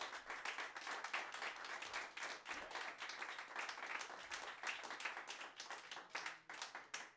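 Audience applause for a guitarist, Joey Dugan, joining the stage at a live radio show, with steady dense clapping that holds for the whole stretch and no one speaking over it.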